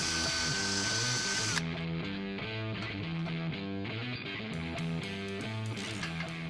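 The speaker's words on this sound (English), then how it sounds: "I use this little abrasive here on a drill." A power drill whirs steadily at close range, its motor pitch wavering slightly as the abrasive bit grinds against metal.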